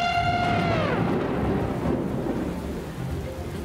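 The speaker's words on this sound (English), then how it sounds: "It's just rain, nothing to be scared of." Cartoon thunderstorm: a rolling thunder crash opens over steady loud rain, a high tone fading out at the start and the downpour continuing alone.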